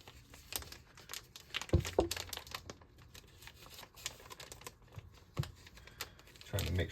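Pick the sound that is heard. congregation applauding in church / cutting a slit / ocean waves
cutting a slit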